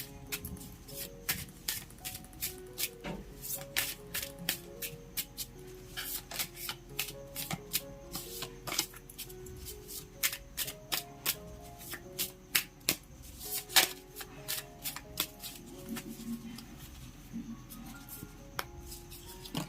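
Oracle tarot cards being shuffled by hand, a steady run of crisp, close riffling flutters and snaps repeating for about twenty seconds with no talking.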